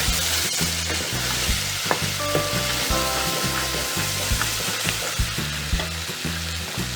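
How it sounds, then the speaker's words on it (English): About 250 grams of sliced mushrooms fry for biryani in a loud, close, continuous sizzle, with rhythmic thuds and scrapes from steady stirring throughout. "I am putting mushrooms now. Mix it well."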